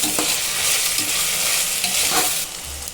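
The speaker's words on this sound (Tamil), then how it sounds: "இஞ்சி பூண்டு பேஸ்ட்டு நல்லா வதங்கி வரட்டும்" Ginger garlic paste sizzles steadily in a hot pan for chicken biryani, with occasional scraping stirs, the frying hiss loud and continuous.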